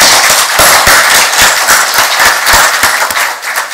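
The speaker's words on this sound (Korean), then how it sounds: "여사님께 다시 한번 박수를 보내주시기 바랍니다." A large audience at a formal commemorative event applauds loudly and continuously, with dense, sharp claps close by and no pauses.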